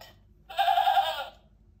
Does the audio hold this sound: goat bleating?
yes